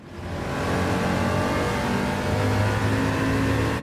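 Chaparral 2J race car engine in Gran Turismo at Watkins Glen, a loud sustained roar rising as the throttle opens, steady and close for nearly four seconds with no talk.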